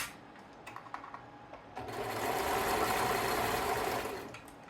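A home sewing machine runs a short, steady burst of stitching at a comfortable pace after a few faint clicks, heard quietly at close range.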